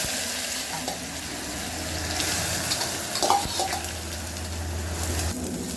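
Ridge gourd sizzles in hot oil with cumin and asafoetida after mustard seeds have popped, a dense, continuous close-up frying hiss broken by a few stirring scrapes against the pan.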